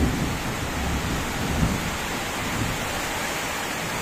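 A steady downpour of heavy rain during a typhoon, a thick unbroken hiss with a faint low rumble of thunder underneath, no voices.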